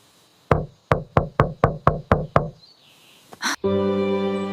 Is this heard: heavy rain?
no